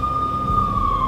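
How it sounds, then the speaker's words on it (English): A police siren in the video game Max Payne holds a loud, steady high tone over a low rumble, heard briefly with no talking. "I could hear the sirens. Their wail was a crescendo."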